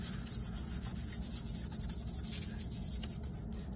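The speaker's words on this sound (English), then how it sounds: "And I'm going to press it down and rub it in." A hand rubs a paper collage piece down onto the page, a continuous soft close-up scraping and brushing with no talk.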